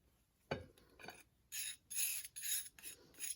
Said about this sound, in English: you can use a palette knife to start mixing it together